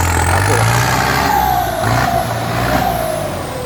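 A TS90 truck with a large air filter revving hard as it pulls away during a test drive after an inspection, a loud steady engine roar whose pitch climbs and falls through the run, with no pause.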